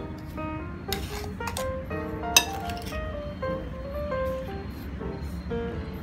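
A spoon clinks against a bowl while stirring salted raw mango pickle with hing. The bright taps come irregularly and close by, with one sharper strike, over a soft background of moist stirring.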